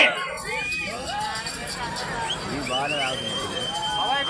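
A large outdoor festival crowd at the Chennakesava Swamy temple fair in Markapuram makes a loud, continuous roar of voices and shouting close by, with a speaker talking over it.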